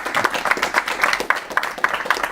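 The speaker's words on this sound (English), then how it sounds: "I'm clapping from home." Several sharp, fairly quick claps from one person at home celebrating the end of a speedrun, close and rhythmic, with a faint background bed.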